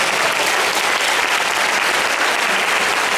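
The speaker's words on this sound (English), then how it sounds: "let's all give my triplets a nice round of applause" An audience at a triplets' magic square performance breaks into dense, steady applause, loud and continuous throughout with no pauses.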